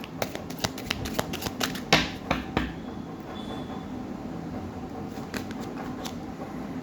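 Tarot cards being shuffled and drawn, a quick run of sharp snapping flicks and riffles up close, then softer sliding and handling of the deck against a faint steady background hum, with no talking.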